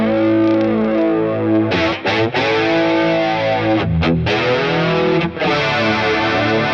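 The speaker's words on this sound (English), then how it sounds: "we end up getting that hollow flanger sound, but it still gets movement" Heavily distorted electric guitar chords through a Boss Katana amp flanger, with a sweeping, hollow jet-like whoosh, loud and continuous with a few brief gaps between strums.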